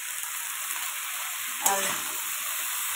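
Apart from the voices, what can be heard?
okra frying in a pan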